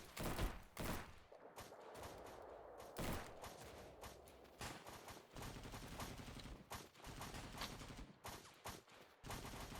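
Rapid automatic gunfire from enemy soldiers in The Patriotic War, a video game battle, with dense bursts and individual shots rattling throughout, loud and close, no talking.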